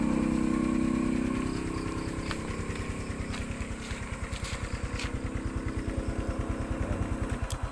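A small aerator motor, set up to run on either a 12-volt or a 220-volt supply, hums steadily up close with a fast pulsing throb and no talk; a few faint clicks sound in the background.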